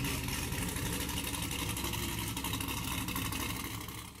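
A C5 Corvette V8 with long tube headers and a lumpy cam rumbles loud and close, a thick, steady exhaust drone with a choppy, pulsing lope that eases off at the end.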